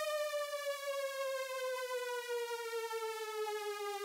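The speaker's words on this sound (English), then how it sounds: "Then we've got a down riser" A bright, buzzy synth tone slides steadily downward in pitch over about four seconds, rich in harmonics, loud and sustained with no other sounds.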